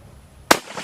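A single sharp rifle shot from a military surplus rifle cracks loudly and alone, followed by a short fading echo.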